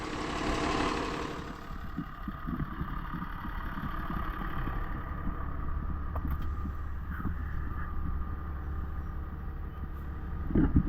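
Tractor engine pulling wagons loaded with hay bales along a road, a steady low idling rumble that runs continuously and moderately loud, with no voices.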